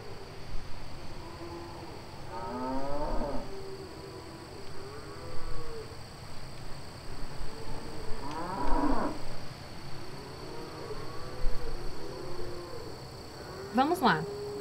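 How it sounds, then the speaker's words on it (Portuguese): Sheep bleat in several separate, wavering cries spaced a few seconds apart, moderately close, over a steady background hum with a sharper call at the end and occasional voices. "Ovelha."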